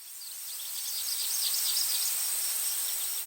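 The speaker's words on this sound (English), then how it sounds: "So first I have this nature sound." High, shimmering insect chirps and faint bird calls form a thin nature ambience that fades in, holds steady, then cuts off abruptly.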